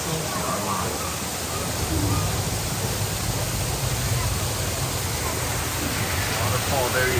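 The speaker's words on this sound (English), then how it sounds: "Waterfall there, you really can't see it." Waterfall at Epcot during the Festival of the Holidays: a steady, loud wash of falling water fills the whole stretch, constant and unbroken, with faint crowd sounds underneath.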